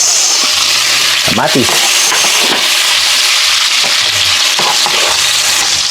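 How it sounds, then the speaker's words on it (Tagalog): Tomatoes sauté in a hot pan, giving a steady close sizzle and hiss with a few brief stirring scrapes throughout. "Habang ginigisa nyo yan, bigyan nyo na ng mga pampalasa."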